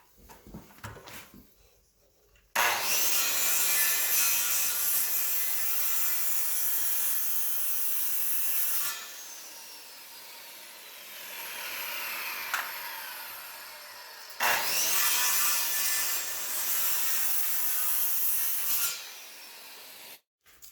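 Saw cutting a short length off a wooden lathe bench leg: two long bursts of steady, rasping cutting, close and loud, with a brief pause between, and no talk.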